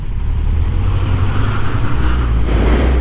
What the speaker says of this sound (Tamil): பயங்கர டிராஃபிக்காக இருக்கே.